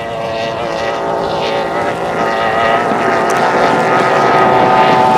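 A mono racing powerboat roars at speed on open water in a 2700 Mono race at the Paynesville Gold Cup, its engine drone loud and steady and building slightly, with faint commentary underneath.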